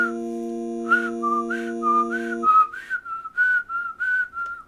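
A person whistles a short melody by breathing out, a run of clear sustained pitched notes with brief gaps, close and fairly loud, starting over a steady electronic game music tone that cuts off midway.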